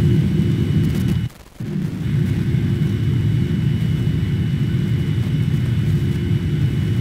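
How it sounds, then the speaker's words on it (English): A QualityWings 787 airliner in flight in the Prepar3D simulator, a steady low engine drone and rumble that dips briefly near the start, then holds evenly. "Such a quiet aircraft at this stage."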